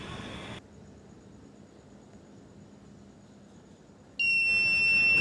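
A high electronic alarm tone from an Arduino-based home burglar alarm buzzer sounds, cuts off into near silence with a faint whine, then a piercing alarm blares loudly again.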